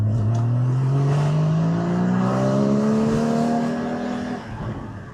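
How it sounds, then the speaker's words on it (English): A Porsche 981 GT4 engine and exhaust pull hard while driving, a loud rising drone that climbs steadily through the gears before easing off near the end, with no talk over it. "the exhaust on these pretty much sound perfect out of the box"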